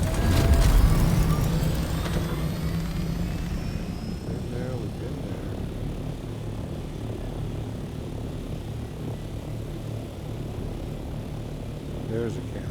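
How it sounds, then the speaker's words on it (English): A helicopter flying in the video game Dune Awakening, a steady loud engine and rotor drone that holds throughout, starting strongest at the beginning and continuing evenly with faint game sounds underneath. "Let's bring up chopper."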